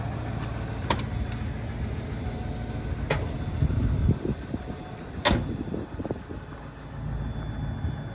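A 1983 Ford Crown Victoria LTD idles with a low, steady rumble close to the exhaust, with a few sharp clicks and a brief revving swell midway.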